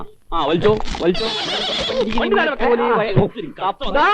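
A horse pulling a cart neighs in shrill, wavering whinnies that run through lively overlapping talk and laughter from a comic Malayalam bus-trip scene.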